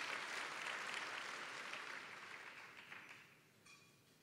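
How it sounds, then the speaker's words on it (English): Audience applause at the Western Conservative Summit, a dense, steady clapping from a large crowd that gradually thins and fades out over about four seconds. "Now, yes, more applause for the Dobsons."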